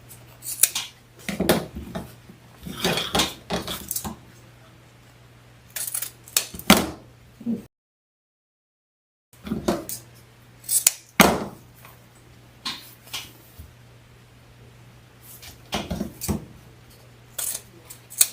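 Scissors trim ribbon on a Christmas rail wreath in a series of short, sharp metallic snips and rustles. The snips come in irregular clusters, close and fairly loud, with a steady low hum underneath and a brief silent gap midway.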